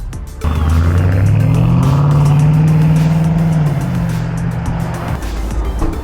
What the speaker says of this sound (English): Ooh, listen to that. Listen to that TRX.